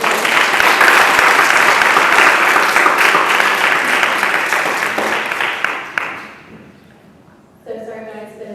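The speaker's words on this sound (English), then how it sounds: "we're going to not do the applause" Loud audience applause at a library board meeting rolls steadily for about six seconds, then fades and stops. A speaker's voice follows after a short lull.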